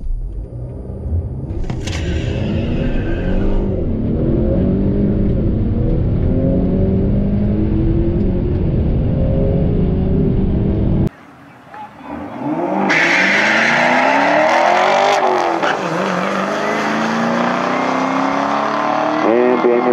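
A sixth-generation 2018 Chevrolet Camaro SS 1LE V8 roars loudly, revving up and down through rising and falling pitches, then briefly drops away before revving hard again; the engine dominates throughout.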